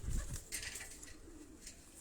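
Pigeons cooing in a bird keeper's loft, a few soft, low coos close by with a faint flutter of wings, no talking.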